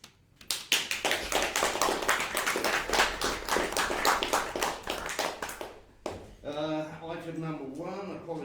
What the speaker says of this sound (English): I would like to start a big round of applause for Rachel and all of the volunteers